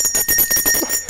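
A bell rings in a rapid, continuous metallic trill with steady bright high overtones, loud and near, pulsing quickly over about a second with no talk.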